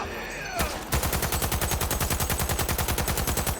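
Rapid sustained burst of LMG machine-gun fire in the video game Cyberpunk 2077, loud, close, steady rattling shots following a brief quieter moment.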